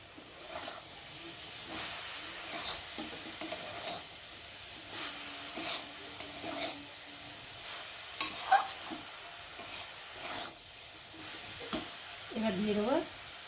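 Grated coconut cooking with Amul milk in a pan is stirred, giving a soft scraping and faint simmering hiss with intermittent utensil knocks, quiet and close, while someone talks at times.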